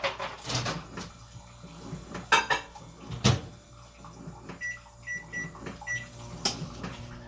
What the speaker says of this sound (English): Let me put this in the microwave.